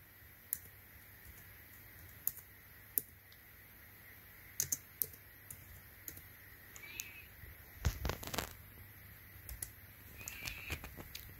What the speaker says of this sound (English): type in clean boot